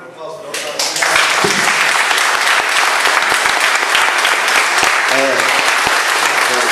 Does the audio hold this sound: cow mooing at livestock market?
no